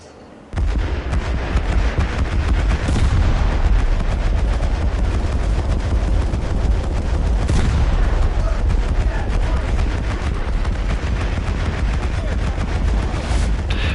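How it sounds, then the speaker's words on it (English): Rolling battlefield din of bombs exploding and guns firing in War Thunder, loud and continuous from start to end, with heavier booms bursting out every few seconds. "Oh no, not more bombs."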